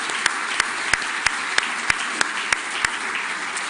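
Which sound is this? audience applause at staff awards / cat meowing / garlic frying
audience applause at staff awards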